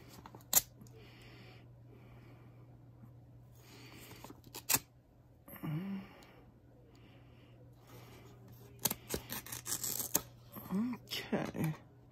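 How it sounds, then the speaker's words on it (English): A taped envelope torn open by hand, with brief ripping and crinkling paper bursts between pauses, close and fairly quiet. "I'm going to have to open the envelope up the rest of the way"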